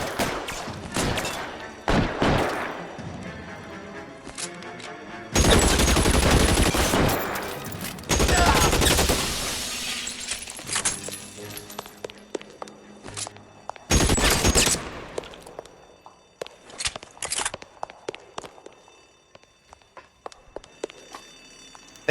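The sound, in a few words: suppression gunfire in video game L.A. Noire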